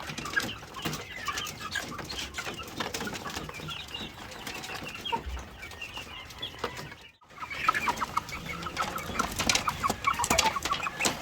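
White Leghorn chickens on a farm cluck and chatter continuously with other fowl, a dense nearby flock noise broken by a brief gap midway.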